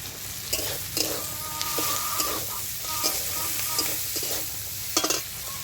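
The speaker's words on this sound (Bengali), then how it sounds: "এখানে দিয়ে দেবো কয়েকটি রসুন আমি খেতে রেখেছিলাম, রসুনটা আমি দিয়ে দেবো।" Garlic cloves fry in a pan with onion and shrimp that are already browned, for a taro-leaf bharta. A continuous near sizzle is broken by rhythmic spatula scrapes and knocks, and no one speaks.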